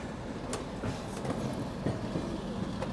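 The 13125 Kolkata–Sairang Express running on rails near Ranaghat, heard from inside as a steady rumble with faint clickety-clack wheel beats throughout, no talking.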